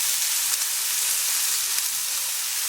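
Hamburger patty frying in a pan, a dense steady sizzle with faint scattered pops, close and alone.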